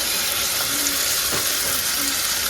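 Chopped onion, green chilli and ginger frying in oil with spices, a loud, steady close hiss of sizzling that fills the whole moment, with a faint stir partway through.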